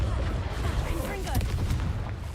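Explosive Confringo spell blasts crackle and boom through a fast Hogwarts Legacy fight, dense, continuous and loud, with game combat noise layered throughout and a voice nearby.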